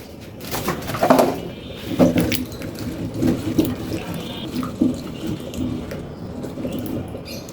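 Water poured into a bowl while making amra (hog plum) murabba, a splashy trickle with several louder gushes over a few seconds, close by and without voices.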